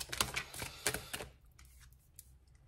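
Tarot cards are drawn from a deck, several quick papery flicks and taps in close succession for about a second, then softer scattered rustles trail off in a quiet room.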